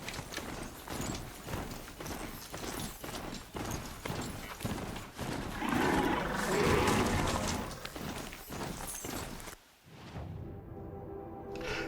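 Horse hooves clip-clop steadily in the video game Horizon Zero Dawn, a rhythmic string of close, fairly quiet hoofbeats that thickens briefly midway before stopping abruptly near the end.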